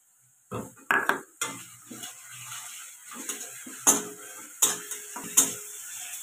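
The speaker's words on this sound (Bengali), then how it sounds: "রসুনটা ভাজা হয়ে গেল" Garlic sizzles in a pan over fried onions and whole spices, broken by uneven scraping and clinking stirs of a utensil against the pan, some louder strokes standing out above the quieter sizzle.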